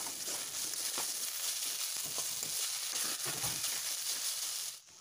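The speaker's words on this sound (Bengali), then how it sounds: "এখন দিয়ে দিলাম লাউগুলো, এবার ভালো করে নাড়াচাড়া করে নিব" Gourd, coconut and raisins are stirred in a pan for a milk gourd payesh, giving a continuous soft sizzle with scraping and crunchy stirring noises that stop abruptly near the end.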